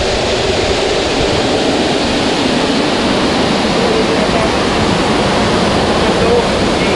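The indoor waterfall at Mall of Qatar produces a loud, continuous rush of falling water, a broad steady roar heard up close with no breaks.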